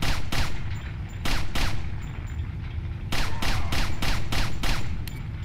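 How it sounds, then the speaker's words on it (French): A pistol in the Resident Evil 4 video game fires in loud, rapid bursts like a machine gun, with dense back-to-back shots, a short lull, then another fast volley. "on dirait pratiquement une mitraillette le pistolet"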